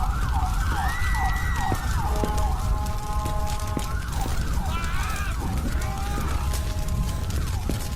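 An ambulance siren wails continuously for the whole stretch in a loud, busy street scene, its rising and falling sweeps repeating close by, with a steady high tone running between the sweeps.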